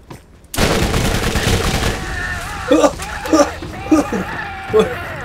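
Borderlands Thumper SMG fire erupts abruptly after a brief lull, loud and close, settling into a rhythm of four heavy, evenly spaced booming shots over sustained game noise.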